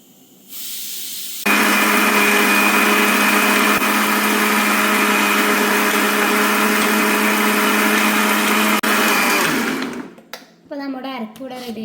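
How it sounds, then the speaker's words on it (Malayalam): A mixer grinder grinds shallots, cumin and water into a paste for a Kerala-style colocasia curry. It whirs loud and steady for about eight seconds, then winds down, and a voice talks briefly afterward. "കുറച്ച് ചെറിയ ജീരകം, ആവശ്യത്തിനുള്ള വെള്ളം ഒഴിച്ച് കൊടുത്തിട്ട് അരച്ചെടുക്കുകയാണ്."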